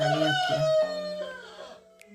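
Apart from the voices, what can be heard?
rooster crowing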